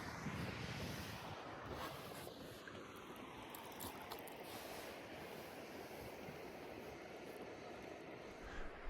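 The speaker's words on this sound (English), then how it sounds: "Here goes another plane." A faint, distant airplane drones overhead above a wilderness lake, a steady low rumble with a broad wash of noise and no talking.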